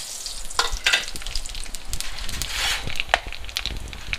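Onions fry in very hot oil for a village-style chicken curry, a steady close sizzle broken by sharp crackles and spatters, with stirring noises throughout.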